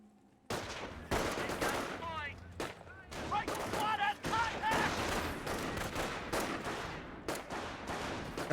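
Machine gun fire and other gunshots rattle in bursts in a Company of Heroes match, layered with in-game effects and a commentator talking over the action.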